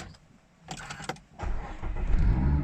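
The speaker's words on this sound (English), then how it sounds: "dip the clutch, start the engine" A 2017 Mazda MX-5 1.5 SKYACTIV-G starts by push button: brief starter cranking, then the engine catches and settles into a steady, close, fairly loud idle rumble with no talk.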